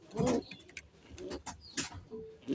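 A pair of Black Danish fancy pigeons coo in low, repeated bursts close by, with short pauses between the soft rolling calls.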